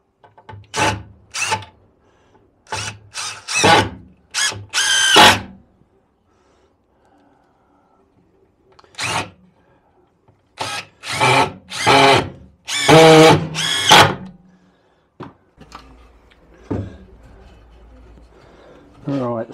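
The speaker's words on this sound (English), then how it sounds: "we drill a couple of holes on the edge, put some legs under" A power drill bores holes in timber for narrowboat stern steps, running in a series of short, loud, close-up bursts separated by pauses, with some talking nearby.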